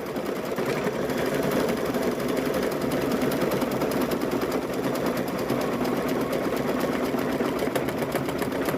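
An embroidery machine stitches the eyes and nose onto a stuffed bear, a loud, dense, continuous rattling hum with fast repetitive needle strikes and no speech.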